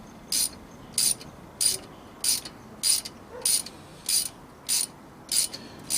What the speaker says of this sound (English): So now all we've got to do is wind it in, which will consequently pull the pulley back towards us.